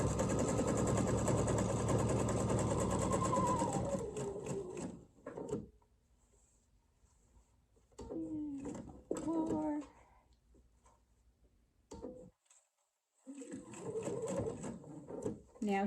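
Home sewing machine stitching a fabric jar lid opener craft, a steady close whirring run for about five seconds, then pauses and short bursts of stitching with quiet handling of the fabric between them.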